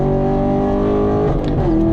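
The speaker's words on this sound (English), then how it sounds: "let's just take a moment to appreciate how good this exhaust sounds" Modified Chevrolet Camaro SS 1LE V8 exhaust on a racetrack hot lap, a loud, steady close-up drone that shifts pitch near the end as the engine note changes under load.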